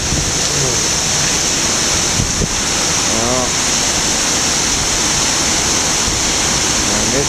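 Strong hurricane wind during Hurricane Irma, gusting at roughly 70 to 80 mph and tearing moss from a tree, roars as a loud, steady broadband rush that fills the whole clip, with a voice speaking briefly over it.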